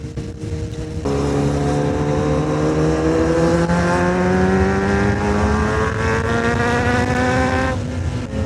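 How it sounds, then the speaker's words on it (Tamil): A high-revving Ducati V4 superbike engine roars past, its pitch sliding steadily downward as it goes by, loud and close throughout. "டுக்காட்டி V4 வந்துருச்சு."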